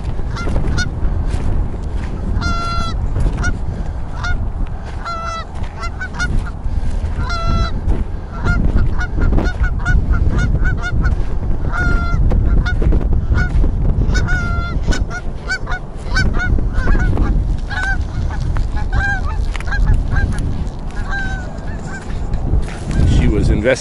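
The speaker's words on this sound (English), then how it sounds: "See what these geese are up to." Geese on a river island honk loudly and repeatedly in overlapping bursts, close by over steady outdoor wind and rumble for the whole stretch.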